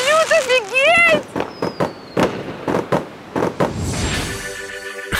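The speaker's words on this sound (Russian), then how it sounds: "Это салют, офигеть!" A fireworks display in Mexico sets off loud, sharp bangs and crackling bursts in an uneven series, while people nearby exclaim and talk excitedly between the blasts.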